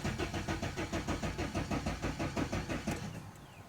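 Opel Vectra C with a Y22DTR diesel engine cranking on the starter, a rapid rhythmic churning of about a dozen even beats that slows and drops away at the end without catching.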